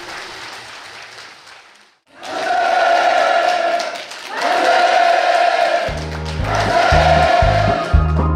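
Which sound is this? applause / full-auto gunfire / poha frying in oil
applause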